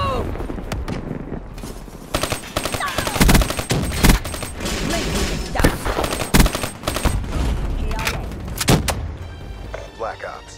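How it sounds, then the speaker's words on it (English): Call of Duty: Black Ops III firefight: a loud frag grenade blast amid heavy, sustained automatic gunfire, with dense rattling volleys and heavy thuds across the whole stretch, close and intense. "Frag grenade! Move!"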